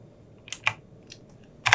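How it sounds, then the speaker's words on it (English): A few scattered keystrokes on a computer keyboard while entering a command in a Windows command prompt, ending in a sharper double tap, close and crisp in a quiet room. "typing ipconfig, and then pressing enter"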